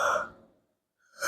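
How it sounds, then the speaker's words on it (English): A person yawns once, close up, with a breathy drawn-out exhale that fades into silence and then a fresh intake of breath at the end. "It's a second yawn."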